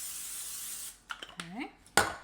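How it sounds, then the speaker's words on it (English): A short burst of cooking spray hisses steadily onto a tin pan for under a second, followed by brief speech and a light clatter. "I'm going to spray some pan."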